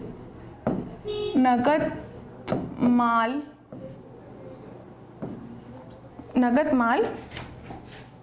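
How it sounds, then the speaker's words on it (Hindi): A pen scratches on paper in short bursts during an accounting lesson, under a voice that keeps talking close to the microphone. "इसको मैं लिख ही देती हूँ"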